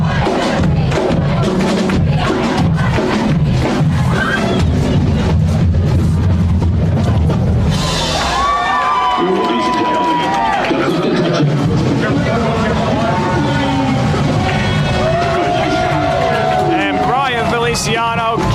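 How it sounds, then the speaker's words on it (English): Crowd roar and brassy marching-band music fill the stands at a varsity high school football game against Kennedy, loud and continuous throughout, with sideline voices mixed into the din. "As you can hear the band going crazy along with the crowd, the sideline hyped."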